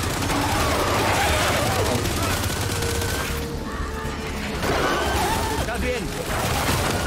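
Rapid bursts of Gears 5 gunfire crackle steadily over busy noise, with a short lull midway before the shooting picks back up.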